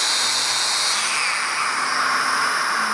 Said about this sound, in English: You can hear the vacuum running over there